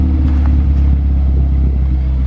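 A Ford Focus ST with a built engine, resonated exhaust and catless downpipe idles nearby, a loud, steady, deep rumble with a slight uneven burble and no talking.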